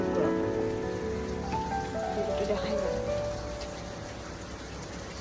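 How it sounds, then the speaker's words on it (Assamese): Monsoon rain outside a hotel in Manali in July, a soft, steady patter and hiss that continues throughout, with a brief quiet voice near the start. "এতিয়া বৰষুণ হৈ আছে বাহিৰত"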